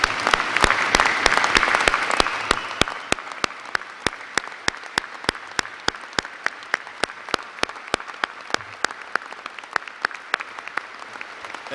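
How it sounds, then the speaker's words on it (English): Audience at a Montana State University commencement ceremony applauds while standing, a dense burst of clapping that thins out after a few seconds into scattered, sharp individual claps continuing to the end. "if you wouldn't mind standing up and just giving Gordon Olsen a real strong applause"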